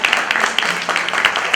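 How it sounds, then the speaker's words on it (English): Applause from a holiday party crowd, a dense steady patter of many hands clapping at moderate volume, with voices faintly mixed in. "So can we all please give her a round of applause?"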